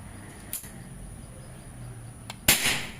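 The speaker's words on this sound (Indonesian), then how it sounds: "tembakan pertama 964 FPS" A PCP mini air pistol, the L-38 with a dural barrel, is fired at 2500 psi on medium power: a sharp, loud crack near the end, preceded by a smaller click or snap.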